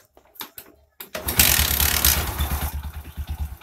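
A few short clicks and cranking bursts, then a Bajaj motorcycle engine with tappet noise catches and settles into a close, pulsing idle.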